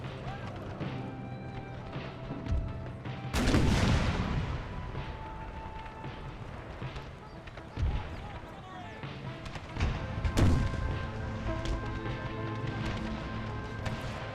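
Howitzer artillery fires in an Empire: Total War battle, heavy booms landing at irregular intervals over continuous battlefield clatter, with someone talking over the din.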